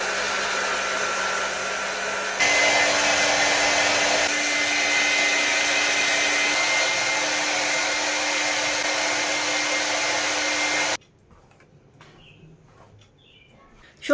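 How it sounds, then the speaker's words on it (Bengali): A hair dryer blows steadily on a child's freshly shampooed hair, a loud continuous whooshing hum that shifts speed a few times before cutting off, leaving quiet room sound. "এরপরে ওকে আমি চুলটা ড্রায়ার দিয়ে শুকিয়ে দেবো"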